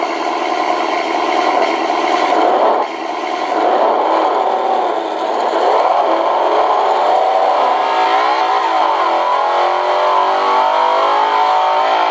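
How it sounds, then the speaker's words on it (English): A 1/14-scale RC truck's Beier USM-RC-3 sound module plays a steady engine rumble for a while, revving up and down in pitch with smooth rises and falls, loud and close. "I think the sounds of the engine are quite successful."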